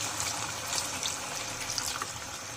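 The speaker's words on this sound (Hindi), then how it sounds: "अभी हमने इसमें जो है पानी ऐड कर देंगे।" Water pours steadily from a tap into a sauce being made in a kitchen, a continuous close splashing trickle with no talk.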